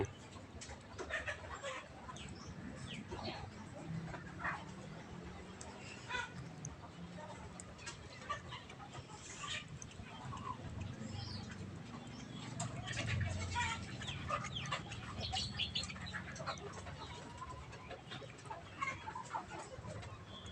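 Fighting cocks cluck and call intermittently in a garden of variegated plants and bananas, with someone talking over much of it.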